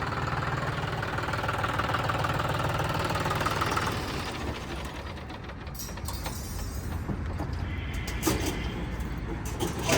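A 5210 tractor with only about 408 running hours idles nearby with a steady, knocking rumble, loud at first, then easing to a lower level with occasional clatter.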